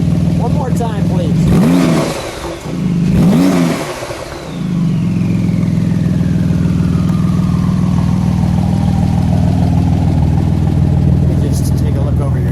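A blue 2018 Porsche 911 GT2 RS with the Weissach Package blips its turbocharged engine twice in sharp, loud revs, then settles into a steady idle with a fading whistle as a voice talks over it.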